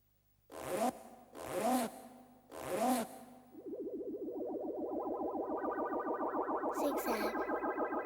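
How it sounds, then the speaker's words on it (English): A zipper zipped in a children's programme, heard after three spoken syllables as a sustained, buzzy, processed rasp with a warbling effect that runs for several seconds. "Zip."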